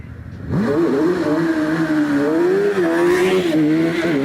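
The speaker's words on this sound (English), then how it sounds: "So tyre warming there from Gary Dixon" A hillclimb race car at a British championship event at Doune revs hard while warming its tyres, a loud, close, sustained engine note rising and wavering steadily with no talk over it.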